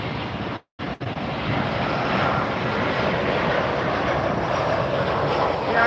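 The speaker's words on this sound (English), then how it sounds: "Next, American 341, Airbus 319." An American Airlines Airbus A319 arrives at Miami Airport, its engines making a steady loud roar close by after a brief dropout near the start, with no talking.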